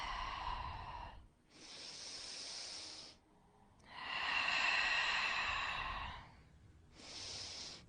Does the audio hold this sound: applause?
no